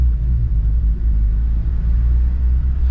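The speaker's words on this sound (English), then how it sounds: "you guys can hear the car." An Acura RSX Type S running without a catalytic converter rumbles in an underpass parking area, a deep, steady low exhaust drone that stays loud and close throughout.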